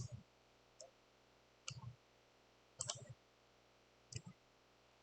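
A handful of sharp, isolated computer mouse clicks spaced irregularly a second or so apart in a quiet room, close and fairly soft.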